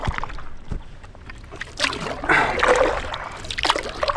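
Canoe paddling on open water, soft splashes and drips from paddle strokes mixed with wind and gentle hull sounds, fairly close.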